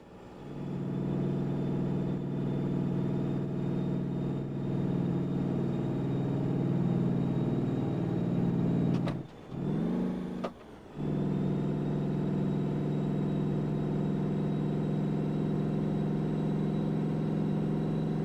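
A simulated heavy road-train truck engine from American Truck Simulator, a Superliner hauling a five-trailer combination, drones low and steady, briefly cutting out for about two seconds mid-clip before resuming its constant rumble.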